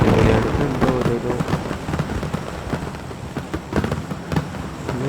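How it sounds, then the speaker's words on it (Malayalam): Fireworks crackle and pop in the PC game PUBG, a dense run of sharp bursts over a rumbling roar, loud and continuous with no talk. "ഇന്നൊന്ന് വെടിക്കെട്ടുണ്ടോ?"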